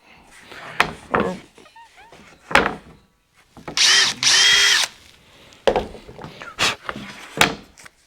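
A power drill driving screws into a front panel: several short whirring bursts with a longer sustained run in the middle, close by, separated by quiet handling noises.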